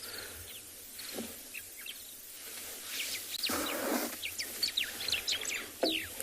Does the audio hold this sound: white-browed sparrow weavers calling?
yes